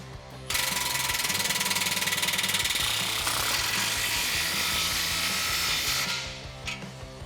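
A ratchet with a 15mm socket tightening an exhaust clamp on a 2009-2013 Silverado or Sierra, giving a loud, continuous rapid clicking that runs for about six seconds before stopping.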